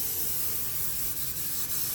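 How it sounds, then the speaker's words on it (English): Brake cleaner sprays from an aerosol can onto metal, a loud, continuous close-up hiss lasting the full two seconds with only slight dips, and no voices. "we're going to get it clean with some brake cleaner on there"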